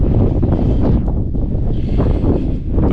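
Strong, steady wind buffets the microphone on an exposed mountain ridge, a loud continuous low roar with gusty swells throughout and no talking.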